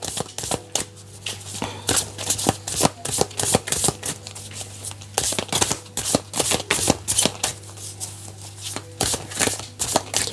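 Two decks of oracle cards are shuffled together in quick, crisp riffles and flicks, repeating in a steady rhythm at close range with no talking.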